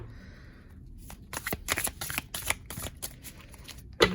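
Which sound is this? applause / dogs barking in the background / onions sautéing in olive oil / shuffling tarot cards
shuffling tarot cards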